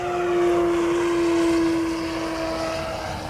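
A Hangar 9 P-47 Thunderbolt RC model fighter plane flies overhead, its electric motor giving a steady, loud, droning whine with a sustained tone that holds throughout and fades slightly toward the end.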